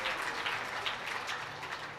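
Audience applause at a live Shrimad Bhagavat Katha religious gathering at a cow shelter in Nagaur, a steady wash of many hands clapping, fairly soft and distant, with no talking.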